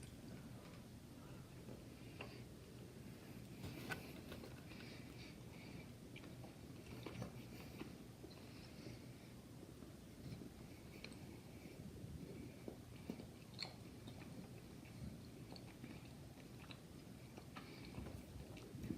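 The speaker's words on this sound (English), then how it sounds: "I'm going to have to take a bite because I can't pull it apart. It's really tough." A tough, chewy French chestnut caramel candy being bitten and chewed close up, with quiet, continuous sticky mouth sounds and small clicks over a long stretch and no talk.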